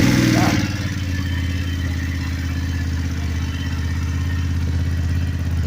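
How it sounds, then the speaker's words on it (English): A BMW F850 GS Adventure motorcycle with an Akrapovič exhaust turns over and settles into a steady, deep idle rumble, close by and continuous throughout. "I'm going to start it up here real quick"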